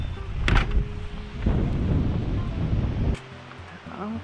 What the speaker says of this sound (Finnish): Säässä tuulee.